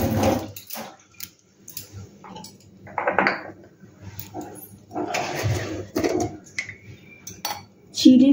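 Running water in a home kitchen while hands are rinsed during chicken cutlet preparation, intermittent splashing bursts with clinks of dishes and utensils between them, close and moderately loud, with quiet pauses.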